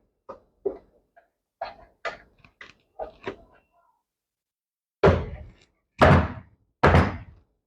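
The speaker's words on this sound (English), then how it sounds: "Let's throw the gas tank on." Gas tank being set onto an old go-kart, with light taps and clunks of parts shifting, then three loud hollow thuds as the tank is pushed into place, close and otherwise quiet.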